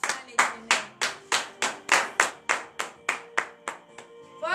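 A congregation claps in a steady, even rhythm during Saturday morning prayer in Comè, Benin, with about fourteen sharp, close handclaps in quick succession and no talking.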